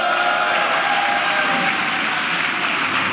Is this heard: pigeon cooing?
no